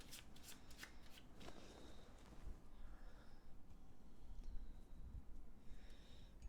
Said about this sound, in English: We can shuffle this one.